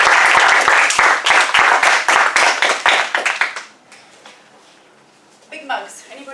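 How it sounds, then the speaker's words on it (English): A meeting audience bursts into brisk, loud applause with dense overlapping claps for about three and a half seconds, then it dies away into quiet room noise and a brief voice. "If we just give them a round of applause."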